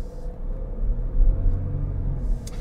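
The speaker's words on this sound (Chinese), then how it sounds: "我试一下加速哦" A Jeep Grand Cherokee Summit diesel SUV accelerates with economy mode switched on, heard from inside as a low, steady engine rumble that swells slightly and then eases, with no talking.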